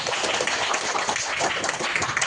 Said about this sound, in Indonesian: Sekarang kasih tepuk tangan untuk kelompok 1